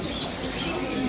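Inflating pigeons coo softly amid a dense wash of fluttering wings and rustling, a crowded flock heard up close at a market.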